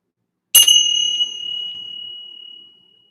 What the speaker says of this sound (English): I'm just going to finish off with my Tibetan bells here. Listen to them ring out.